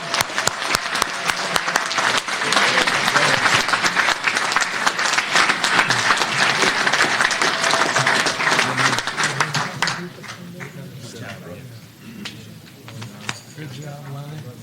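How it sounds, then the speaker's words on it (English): Audience applause at a university athletics hall of fame induction ceremony, a loud, dense wash of clapping for about ten seconds that then drops away into quieter room noise with scattered claps and voices. "Please give a round of applause to this 1990"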